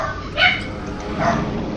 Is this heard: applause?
no